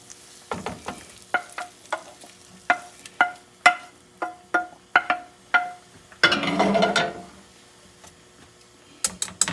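Mushrooms cooking in a pan for a pesto pasta dish, with a run of sharp clicking stirs at a steady pace, then a burst of sizzling as they are tossed, and a few more scrapes at the end.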